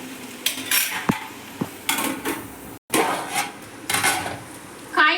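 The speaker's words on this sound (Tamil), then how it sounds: "ஒரு மூடி போட்டு மூடி வச்சிடலாம்." Metal clatters against a pan of plantain stir-fry as a lid is set on it, several sharp clinks and knocks spread across a few seconds, close and fairly loud, with no talking.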